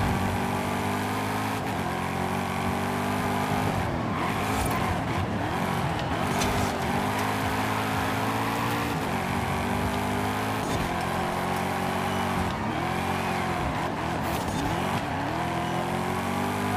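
A car in the racing video game Forza Horizon 5 drives at speed, its engine roaring loud and continuous with repeated rises and falls in pitch through gear shifts, plus occasional tire noise.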